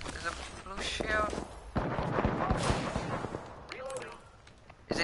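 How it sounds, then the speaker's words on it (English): Enemy gunfire in the video game Apex Legends, with sharp shots and rattling bursts popping at irregular intervals as a voice talks over the action. "The enemies are shooting at me."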